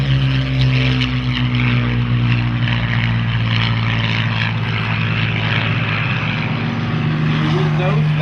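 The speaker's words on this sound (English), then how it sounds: "And here comes the Hurricane." Hawker Hurricane single-engine fighter flying past at the Duxford Flying Legends airshow, a loud, steady piston-propeller drone with strong sustained tones that holds throughout, under a commentator's voice.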